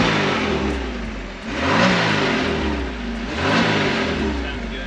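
A 1984 Pontiac Fiero Pace Car engine runs close by, swelling through two strong revs with a gap in between and settling back to a rough idle after each.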